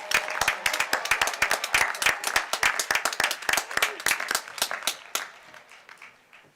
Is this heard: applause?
yes